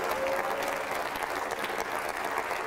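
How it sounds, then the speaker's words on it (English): Congregation clapping their hands at a church conference, a dense, steady wash of many hands that holds loud and unbroken throughout. "Let's give Jesus a hand clap again."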